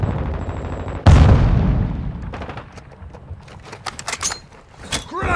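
Grenade blast in Call of Duty Modern Warfare 2 multiplayer: a loud, sudden boom about a second in, decaying into rumble, followed by scattered gunfire and sharp shots.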